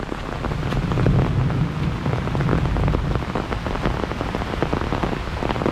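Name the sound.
heavy rain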